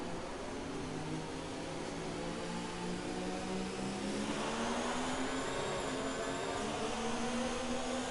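Racing cars circulating behind the safety car at a Grand Prix in Japan, a sustained engine drone with a slowly rising pitch, steady and moderately loud with no voices.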